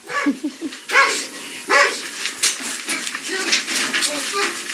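A dog barks and yips in repeated bursts, loud and close. Excited shouting and talk from several people overlap the barking.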